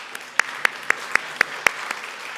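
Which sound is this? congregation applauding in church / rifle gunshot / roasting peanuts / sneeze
congregation applauding in church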